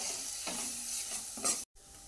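Garam masala and black masala stirred into hot oil with potatoes for a rasa bhaji, giving a steady close sizzle with a few scraping stirs and a brief dropout near the end.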